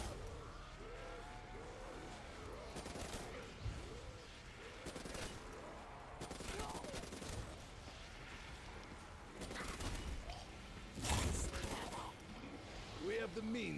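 Rapid gunfire in a video game, fast repeated bursts set well back under a steady wash of battle noise, with a few louder blasts near the end.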